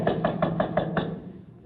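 Six evenly spaced knocks on a door sound in quick succession, fairly close and crisp, followed by a fading room tone, in a studio comedy sketch.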